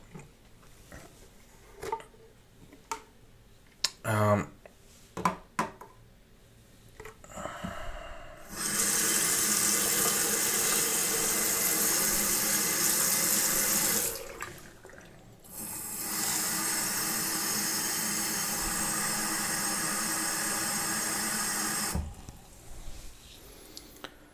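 Water runs through a budget P10 automatic soap dispenser during its cleaning cycle, two long loud steady gushes after a few clicks and handling noises, with a short pause between them.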